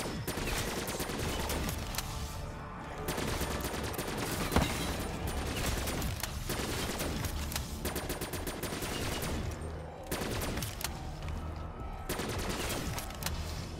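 Weapon fire in Call of Duty Black Ops 3 Zombies, with sustained rapid automatic gunfire that pours out almost continuously in long loud bursts, broken by brief pauses.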